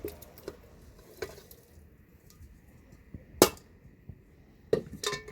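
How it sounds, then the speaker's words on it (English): A spoon scrapes and knocks against a pot of Jamaican stew peas with pigtails. Sharp metallic clinks come at uneven intervals, with quiet stirring rustles between them at close range. "So I'm gonna go ahead and stir it now."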